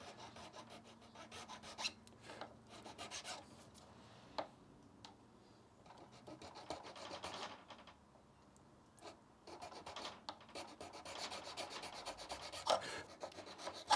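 Fret end files rasp along the excess binding on an Epiphone Sheraton guitar under restoration, a quiet run of repeated scraping strokes with brief pauses between passes, close up and with nobody speaking.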